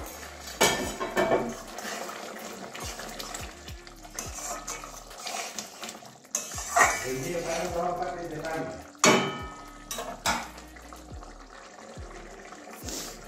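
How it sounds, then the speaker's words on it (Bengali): A metal lid comes off a kadai of egg curry with green peas, followed by repeated clanks of the lid and utensils against the pan and scraping stirring amid a soft sizzle, close and fairly loud. "এবারে ঢাকনাটা খুলে দিচ্ছি আবারও।"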